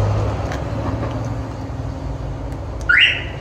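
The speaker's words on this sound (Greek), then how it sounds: "Κλειδώνουμε το αυτοκίνητο" A Citroen C3 fitted with an aftermarket alarm and tracking system being locked, a short rising electronic chirp near the end over steady roadside traffic rumble.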